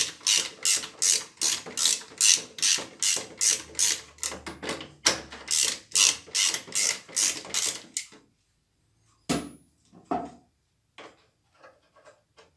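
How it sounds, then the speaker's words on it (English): Start-stop valve being worked out of a Nilfisk E 140.3 pressure washer: a fast run of sharp, evenly spaced ratcheting clicks for about eight seconds, then silence broken by a few isolated clicks and knocks, close to the mic. "And now I can remove the start-stop valve."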